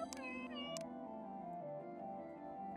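Video-game cat meows from Galaxy Burger, a burger-cooking game for space cats, two short tonal mewing calls near the start over a steady, faint musical game backdrop.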